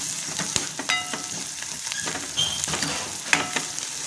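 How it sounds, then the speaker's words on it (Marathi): Onion and garlic frying in a home kitchen pan, a close, continuous sizzle with scattered sharp pops and occasional clinks of a spoon stirring through the spitting oil. "लसूण घालायचा आणि भाजून घेऊया कांदा आणि लसूण."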